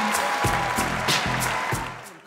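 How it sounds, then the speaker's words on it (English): An audience at a motivational speaking event clapping together, a dense burst of hand claps mixed with a pulsing musical beat, fairly loud and close. "Let's give him a big hand clap, everybody."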